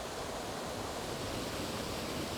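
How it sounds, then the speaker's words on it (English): Waterfall in the Creuse countryside in autumn, a steady full-band rush of falling water that fills the whole stretch evenly and loudly, close by, with no voices over it. "this is the waterfall I was told about"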